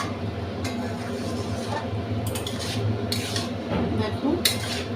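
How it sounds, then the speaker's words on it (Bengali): Egg tadka stirred in a pan, with soft scraping and occasional clinks of a utensil against metal over a low steady background hum, faint and close. "দেখুন তড়কাটা দিয়ে একটুখানি নাড়াচাড়া দিয়ে নেবো।"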